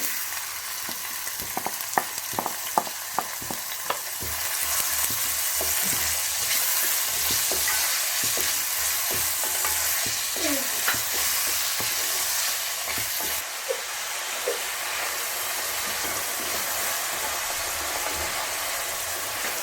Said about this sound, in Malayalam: അതിലേക്ക് നമ്മൾ 3 മീഡിയം സൈസ് സവോള പൊടിയായി അരിഞ്ഞ് ചേർത്ത് കൊടുക്കുന്നു.